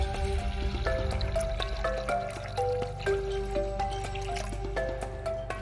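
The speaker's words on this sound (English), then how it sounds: "take some reverse osmosis water here and fill the dish up" Reverse osmosis water poured into a dish in a giant gecko vivarium, with close, irregular drips and trickles against a low rumble in the background.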